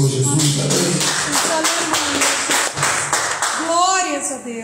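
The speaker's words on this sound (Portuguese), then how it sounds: "Dá aplauso ao Senhor Jesus também." A church congregation claps together in a steady, rapid burst of applause, loud and full, while a voice speaks over it.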